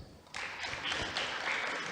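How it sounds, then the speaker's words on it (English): Audience applause breaks out at a health forum on HIV and cervical cancer care, a sustained burst of many hands clapping from a large room, steady and fairly loud after a brief quiet start. "Give a clap, please."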